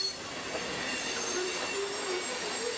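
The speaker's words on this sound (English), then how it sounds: "This massive train finishes out of the tunnel with the DPU unit bringing up the rear." CSX freight train rolling past after leaving a tunnel on an old L&N line, a steady rumble with high-pitched wheel squeals rising and fading, moderately loud and continuous without voices.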